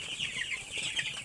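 Nine-day-old broiler chickens in a pen cheep in a dense, steady chorus of high, faint, overlapping peeps.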